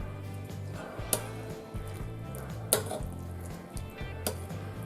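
Crab salad with mango, avocado and yogurt sauce is gently stirred in a bowl, with soft, repeated scraping and light clinks of a utensil against the bowl, quiet and close.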